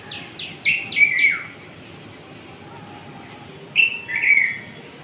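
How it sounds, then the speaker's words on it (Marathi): Birds chirp outdoors at six in the morning from coconut and jamun trees, a quick series of five descending tweets followed later by two more calls, over a soft, steady background hiss. "वेगळे वेगळे पक्षी बसून इतका सुंदर आवाज काढतात ना सकाळी सकाळी"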